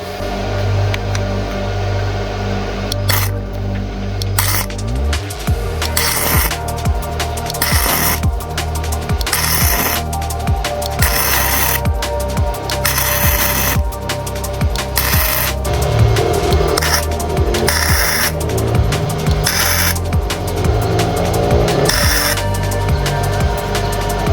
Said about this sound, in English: we got to try and build up the weld in this first, enough for the nut to sit over the top of it and then weld it